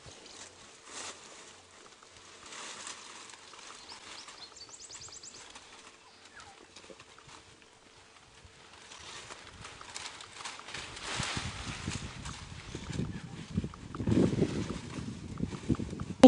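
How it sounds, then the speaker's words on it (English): Close rustling and crunching of leaves by buffalo on a morning safari grows louder and busier in the second half, with faint birdsong in the background and no talking. "hear a combination of the birds as well as the rustling of the leaves from the buffalo"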